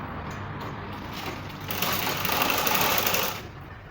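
Sewing machine stitching the side seam of a bustier straight gown, a steady motor whir throughout that grows louder and faster in the middle stretch before easing back, with no talking.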